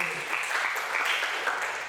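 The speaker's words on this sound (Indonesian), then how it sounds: "Tepuk tangan bagi Tuhan." A church congregation claps together for God during a sermon, a fairly faint, even wash of applause lasting a couple of seconds with no talk over it.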